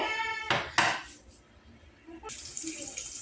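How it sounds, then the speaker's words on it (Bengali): Large cubes of onion, about a plateful, are tipped into a pot of Eid beef do pyaza, giving two brief clattering bursts of pieces and utensil against metal, then quieter kitchen clinks and a rising hiss toward the end. "এখন এই পর্যায়ে আমি পেঁয়াজগুলো দিয়ে দিচ্ছি।"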